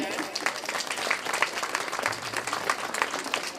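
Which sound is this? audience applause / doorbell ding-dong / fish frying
audience applause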